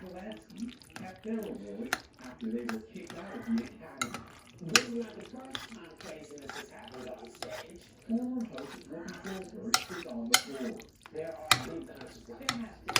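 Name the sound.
stirring cheese sauce into macaroni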